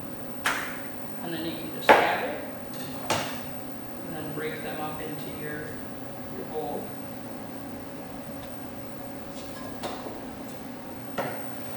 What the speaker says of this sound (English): just keep cutting your cucumbers in very thin slices